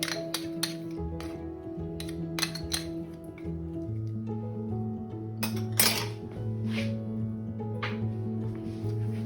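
A spoon stirs rice pudding with cream of coconut in a metal pot, clinking and scraping against the sides in irregular bursts, close by, over a low steady hum.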